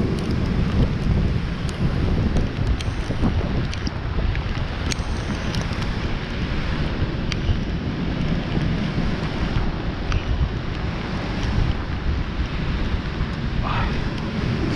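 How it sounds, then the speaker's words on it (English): Heavy rain and gusting wind during a typhoon at a house in Antique, Philippines, a loud continuous roar with wind buffeting the microphone and occasional sharp drips or taps throughout. "It's raining pretty good now."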